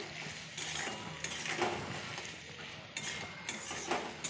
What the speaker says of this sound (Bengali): এবার আবার একবার ভালোভাবে নাড়িয়ে নিচ্ছি